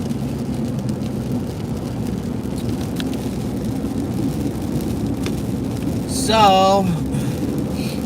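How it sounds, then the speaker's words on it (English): Heavy rain pours down steadily throughout, a dense constant hiss near and loud, with a brief voice and a tonal sweep near the end; no distinct thunder stands out. "4 inches of rain coming down in less than 24 hours"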